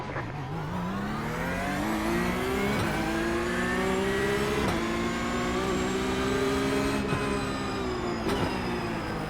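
A Toyota GR86 launching from a race start in the iRacing sim, its engine revving hard and climbing steadily in pitch for several seconds, with brief breaks at gear changes and no talking.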